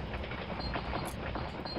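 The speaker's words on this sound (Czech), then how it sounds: "A hodně dlouhý vlak." A long train rumbles past in a Wolfenstein Vendetta mod for a video game, a dense steady roar with faint rhythmic clatter, loud and continuous across the short stretch.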